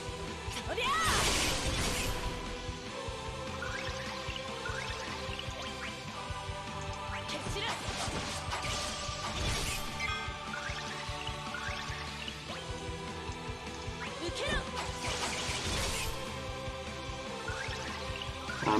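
Crushing Blow attack from Dissidia Final Fantasy Opera Omnia, a dense burst of crashing impacts and swishes over steady game music, with strikes recurring through the battle sequence.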